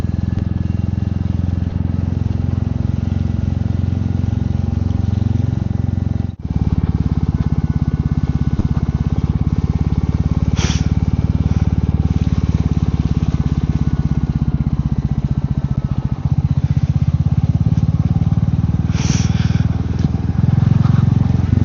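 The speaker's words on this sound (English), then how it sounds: "This motorbike is really cool for going slow around country lanes" Motorbike ridden slowly along dark country lanes in winter: a steady low engine drone with wind rumble, close and continuous, with brief shifts in tone throughout.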